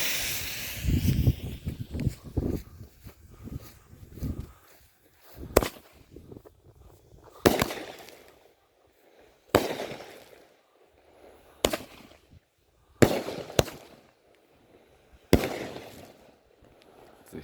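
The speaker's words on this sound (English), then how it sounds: "Pucker Up by Raccoon Fireworks" Pucker Up consumer fireworks cake from Raccoon Fireworks, firing a series of sharp outdoor bursts spaced a second or two apart, each loud crack followed by a brief crackling tail, after an opening stretch of rustling.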